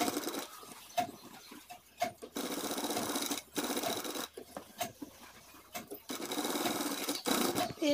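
Kaftan nightie sewn on a sewing machine in several short stitching bursts, broken by clicks, rustling fabric and pauses.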